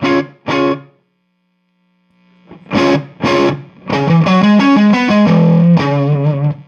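Electric guitar through a tube amp with an El Guapo boost: two short stabs, a sustained low note, then a run of chunky distorted chords.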